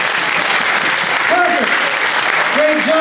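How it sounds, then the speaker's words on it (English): Applause from a high school audience during a presentation, steady clapping filling the room with a couple of brief vocal calls over it, loud and even. "Round of applause for that"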